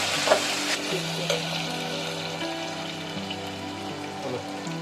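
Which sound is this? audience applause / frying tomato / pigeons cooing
frying tomato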